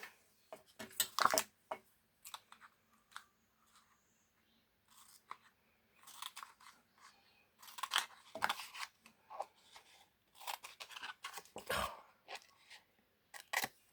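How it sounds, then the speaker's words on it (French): Scissors snip through washi tape for a small handmade card, several sharp crisp cuts in irregular bursts with quiet handling rustles between, close and fairly faint. "On va couper là."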